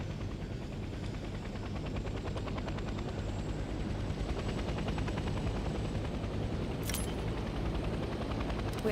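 A helicopter in the Hell Let Loose Vietnam video game flies steadily for the whole stretch, a continuous pulsing rotor drone with a short sharp burst near the end and no voices.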